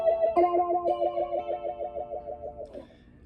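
An A/DA PBF flanger pedal sweeping a sustained guitar tone into a vocal, wah-like flange, pulsing in a steady rhythm for about three seconds before the note cuts off.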